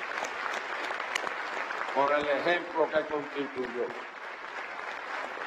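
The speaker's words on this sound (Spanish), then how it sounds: "Yo le quiero dar un aplauso al presidente" Steady clapping from a large audience at a Communist Party of Cuba congress runs throughout. Someone speaks over it for a couple of seconds in the middle, and the applause carries on before and after.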